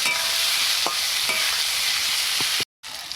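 Ginger-cumin paste, salt and dried chillies frying in oil for a tilapia curry, a steady bright sizzle with a few faint tapping stirs, cutting out briefly near the end.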